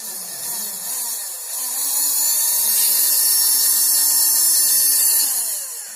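A homemade 12V mini hand drill motor whines at a high, steady pitch, rising slightly in loudness through the middle and easing off at the end, close and without talk.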